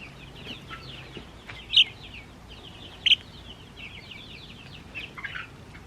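Soft peeps and chirps from two-week-old Barred Rock chicks scattered over a quiet background, with a couple of sharper, louder cheeps standing out.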